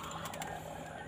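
A local zebra dove (perkutut) in a cage gives a few soft, quick coos near the start, heard against steady background noise and faint mechanical sounds.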